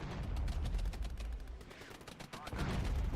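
Incoming mortar fire in the WWIII real-time strategy game Regiments, a dense rumbling barrage of rapid explosive thuds and crackling blasts, loud and continuous throughout with no pauses.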